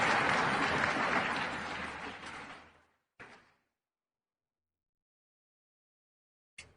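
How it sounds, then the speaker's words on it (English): Audience applause for a speaker taking the stage at an Independence Day event in Chhattisgarh, a dense burst of clapping lasting about three seconds that fades out, followed by a short faint clap and then silence. "A big round of applause for Nandini Yadav."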